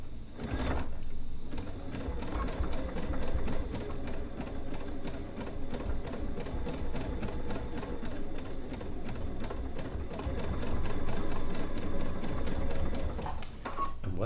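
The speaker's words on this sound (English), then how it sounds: "I've got my presser foot lowered down, and I'm going to start stitching." Sewing machine stitches steadily for about twelve seconds, sewing a decorative stitch on quilt binding, a fast even mechanical chatter at close range with a short pause and clunk near the end.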